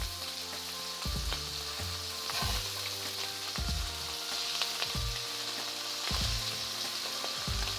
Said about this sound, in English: And you hear that sizzle? That's exactly what you want to hear.